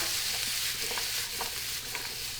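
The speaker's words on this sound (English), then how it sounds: "we saute a little bit of the zucchini, not too long" Zucchini sautéing in a pan while making a sausage frittata, a steady broadband sizzle with a few soft stirring scrapes, continuous and close with no talking.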